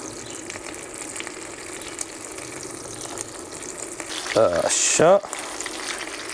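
Chicken livers, taken straight from milk without rinsing, dropped one by one into a hot pan, giving a steady low sizzle that swells into two brief, loud bursts of frying as pieces hit the oil, with a short spoken word nearby.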